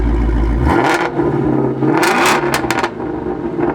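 A 2019 Ford Mustang Shelby GT350R idles low, then its exhaust snaps into a loud, rough rev around 1,500 RPM, rising and falling in a few bursts up close, with no talking.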